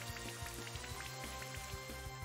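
Rain Dance move effect in the Pokémon Brilliant Diamond video game: a steady synthetic rain hiss with soft droplet ticks and a repeating low rhythmic pulse from game music underneath, heard alone without talk.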